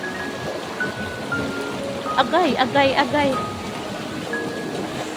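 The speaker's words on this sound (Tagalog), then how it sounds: "So yan, ang lakas ng tubig." A strong countryside river current rushes in a steady broadband wash, swollen and muddy after heavy rain, running continuously while a voice calls out briefly over it.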